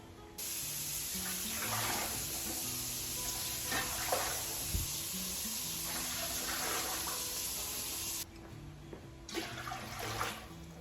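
Water pours steadily into a metal pressure canner for several seconds, a continuous rushing hiss that stops briefly, then resumes.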